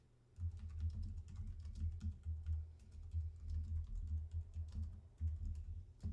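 Steady typing on a computer keyboard at a gaming PC, a continuous run of soft clicks over a low constant hum, with no voices.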